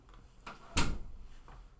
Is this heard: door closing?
yes